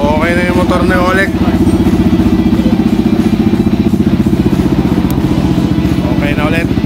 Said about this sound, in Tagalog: so okay na yung motor ni Oleg